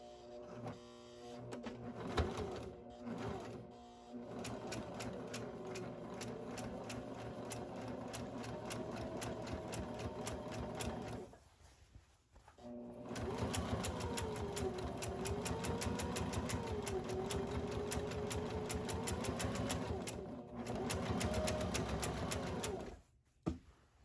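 A sewing machine stitches the seam of a hobo tote bag close to the edge in steady rapid bursts. Brief pauses come as the fabric is adjusted, and the motor hum rises and falls between runs.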